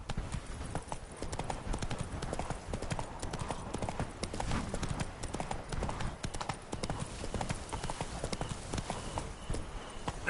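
Roach, the horse in The Witcher 3, gallops with fast, continuous clip-clop hoofbeats that stay loud and even the whole way through.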